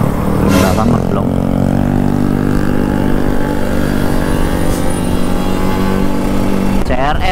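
A Honda CRF and a Honda Beat racing on a road in Medan, Indonesia, engines droning and revving loudly and continuously at close range, with wind noise and people talking over the engine roar.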